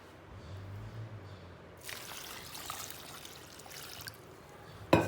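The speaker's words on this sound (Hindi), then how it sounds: "अभी मैं इसमें डालूँगी पानी" Water pours over dried apricots in a bowl, a soft trickle building into a steady splashing stream for a couple of seconds before tapering off, followed by a sharp clink.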